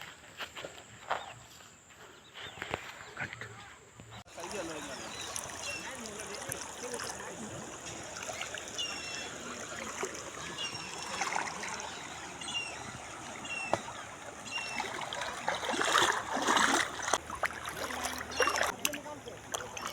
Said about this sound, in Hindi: पूरे नवादा ज़िला में सबसे चौड़ी नदी है, इसका नाम सकरी नदी है